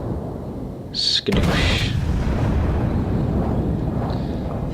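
Battleship main guns fire a salvo in World of Warships, a sudden deep boom with a crackling high burst, followed by a long loud rumbling roar that lingers; a voice speaks briefly over it.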